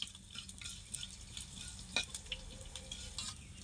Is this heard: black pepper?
yes